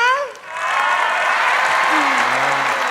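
A school cheering squad at a televised final competition breaks into loud, sustained applause and crowd noise after a host's voice, the clapping swelling quickly and continuing densely throughout.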